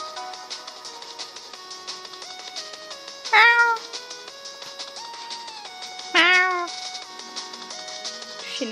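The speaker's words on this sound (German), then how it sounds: "Eine Katze." A cat meows twice, a few seconds apart, over steady background music.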